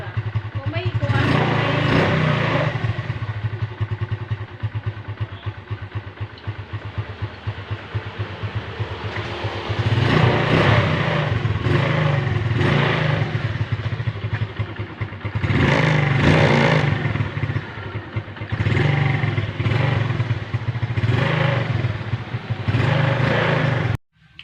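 A repaired motorcycle engine runs loud and close, idling with a steady rumble and rising in several revving surges, with mechanical clatter and people talking over it.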